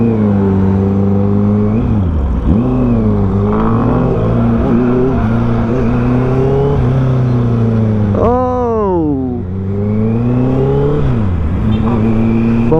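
A Honda CB650R motorcycle fitted with a Drift full exhaust revs up close, its engine note climbing and dropping in repeated strong bursts over a steady idle.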